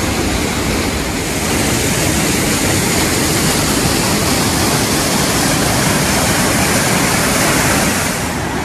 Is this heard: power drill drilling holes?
no